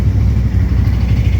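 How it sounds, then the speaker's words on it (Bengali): Close, steady idle of a motorcycle engine during a cold start in cold, windy hill weather, a low rhythmic chug that runs unbroken through the brief moment. "এখন আপাতত বাইকে কোল্ড স্টার্ট চলছে"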